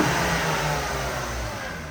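A BMW E36 engine, fresh from new spark plugs and cleaned injectors, revs with a loud, steady broadband roar recorded up close.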